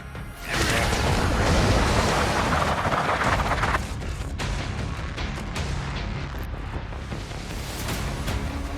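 Heavy shotgun blasts and explosive booms from the medieval-styled shooter Doom: The Dark Ages, loud and dense with continuous roaring combat noise that eases slightly after about four seconds.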